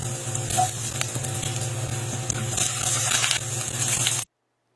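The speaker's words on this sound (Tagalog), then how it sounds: "Tapos nagpainit ako ng mantika at ipinirito ang mga talong." Eggplant frying in hot oil, a steady close crackling sizzle with scattered pops that runs continuously and then cuts off abruptly into silence, with no talk.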